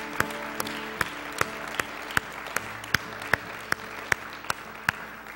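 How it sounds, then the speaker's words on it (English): A church congregation claps in praise, single spaced claps landing in a slow steady rhythm over a low hum of the room, fairly faint and without talk. "Let's give the Lord a clap."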